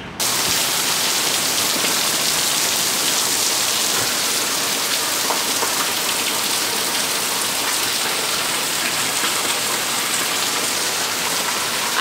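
Heavy hurricane rain pours down in a dense, unbroken roar that stays loud and steady throughout, with no voices or other sounds breaking through.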